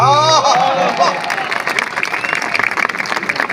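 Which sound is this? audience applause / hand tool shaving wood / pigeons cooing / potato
audience applause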